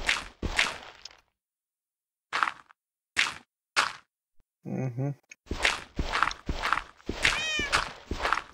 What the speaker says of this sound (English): You can hear that cat literally everywhere underneath here.